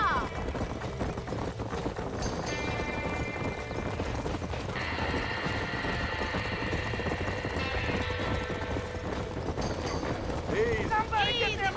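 Horses trapped in a burning barn in Red Dead Redemption, clopping hooves and whinnies sounding through a busy, roaring scene, with voices talking throughout.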